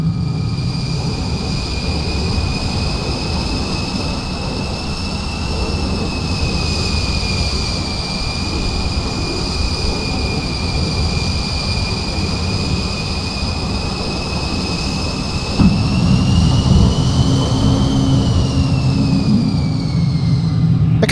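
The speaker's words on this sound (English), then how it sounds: "All the way through to full afterburner." F-14 Tomcat jet engines held at full afterburner in Microsoft Flight Simulator, a loud, steady roar with high whining tones that shift slightly in pitch, rising in intensity near the end.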